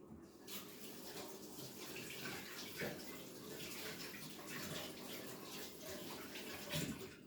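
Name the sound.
washing hands under running tap water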